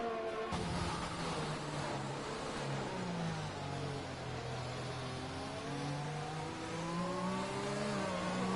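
Formula racing car engine in a racing video game, heard on board at Monza's Curva Grande on a drying track, whining steadily as it revs and shifts through rising and falling pitch, loud and continuous with no talk.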